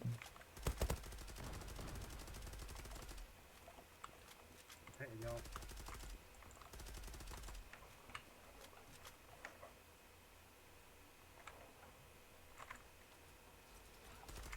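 Gunfire in a competitive online shooter match: faint, quick bursts and single shots scattered over a low game backdrop, with a player talking now and then.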